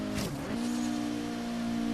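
A Datsun rally car with its standard engine, in the Forza Horizon 3 racing game, gives a brief engine note that swoops and then settles into a steady tonal drone, alone and fairly close.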